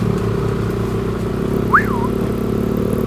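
A motorbike engine drones steadily while riding a rough, low-clearance track off the beaten path, with a brief rising whistle-like squeal cutting in near the end.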